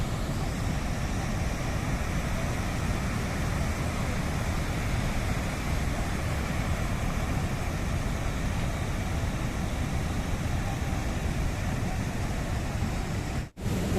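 Water released from the Kakrapar dam on the Tapi river roars in a steady, broad rushing wash, constant and loud with no let-up, heard close to the overflowing spill.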